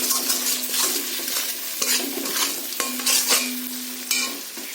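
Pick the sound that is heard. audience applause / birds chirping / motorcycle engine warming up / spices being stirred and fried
spices being stirred and fried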